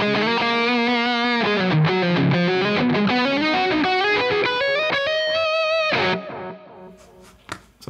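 Distorted electric guitar played through a Mesa Boogie Triple Rectifier amp simulation in AmpliTube 5, with delay and reverb, rings out in sustained melodic phrases and chords for about six seconds, then cuts off into near silence with a few faint clicks.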